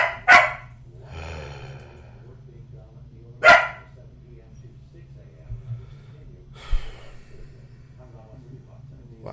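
Pet dogs let out two sharp, loud barks a few seconds apart, close by indoors, followed by quieter snorts and breathy sounds in a low room hum.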